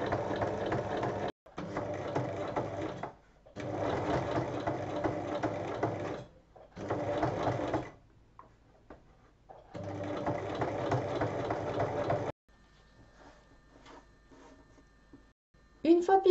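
A sewing machine pieces the seam of a small fabric bag, right sides together, in several loud, steady runs of stitching separated by short pauses, ending with a quieter stretch and a few faint clicks.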